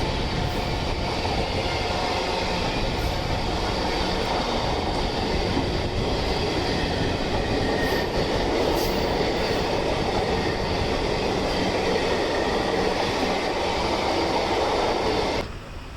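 Jan Shatabdi superfast Pongal special train from Tambaram to Trichy running on the track, a steady loud rumble of wheels and carriages with faint rail clatter that continues throughout before dropping off at the end.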